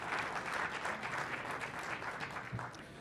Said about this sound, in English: Let's give them a big round of applause for all the work they're doing.